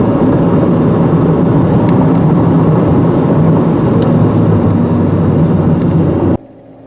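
A 2017 Fiat 124 engine drones steadily while driving, a loud continuous hum with road noise that cuts off abruptly near the end.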